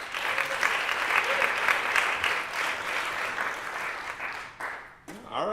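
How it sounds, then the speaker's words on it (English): Audience applause at a comedy roast, a steady dense wash of clapping that holds for about five seconds and then thins out, with a brief voice at the very end. "thank you for that smattering of applause for a god"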